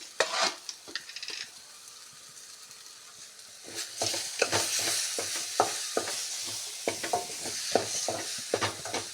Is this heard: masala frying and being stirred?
yes